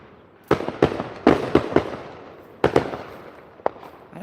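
Fourth of July fireworks go off outdoors in irregular loud booms and crackling bursts, some clustered close together, with quieter stretches between the volleys.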